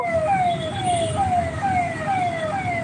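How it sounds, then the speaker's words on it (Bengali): A loud ambulance siren wails in repeating falling sweeps, close by and continuous, over a low hum of road traffic. "এই যে অ্যাম্বুলেন্স যাচ্ছে"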